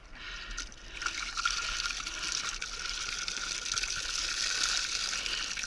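Continuous water gurgles and sloshes around a small capsized toy pirogue boat floating upside down, a steady, fairly close wash and trickle with no clear pauses.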